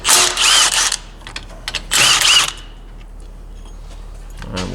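Two loud, harsh bursts of a power tool, each about a second long, come from undoing the sway bar bolts on a CFMOTO UFORCE 1000 side-by-side during a lift kit install. Faint clicks and rattles fill the quiet between them.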